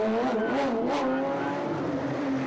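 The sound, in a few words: Porsche number 8 race car pulling away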